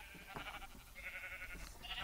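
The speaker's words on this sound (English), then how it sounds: "so we're just going to grab all the sheep" Sheep in the Minecraft game bleating in short wavering cries, several overlapping calls at moderate volume, fairly quiet overall.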